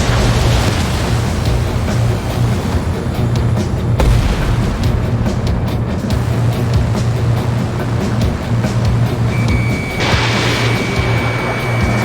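Missile explosions in the aerial combat game Ace Combat 7 boom over a loud, continuous roar of jet and battle noise, with several sharp blasts punctuating the dense din and an alert tone near the end.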